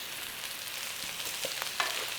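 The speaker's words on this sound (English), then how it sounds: "That might as well cook in there with that little bit of butter." Garlic frying in a little butter in a pan, a soft continuous sizzle with a few faint clicks and pops, close and fairly quiet, with no voices.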